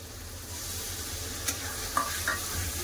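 Ground mustard and poppy seed paste is stirred into tomato masala for rohu fish curry, giving a faint, steady sizzle with a few soft spoon scrapes, close up and with no voices.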